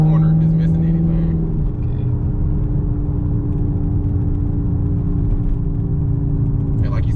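A modded Chevrolet Camaro SS rumbles steadily from inside the cabin while cornering, a constant low engine and road drone with people talking over it.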